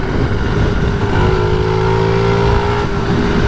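A 1988 Honda Z50 motorcycle engine runs loud and steady close by, a continuous rough exhaust drone with no clear separate pops standing out.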